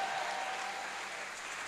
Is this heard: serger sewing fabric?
no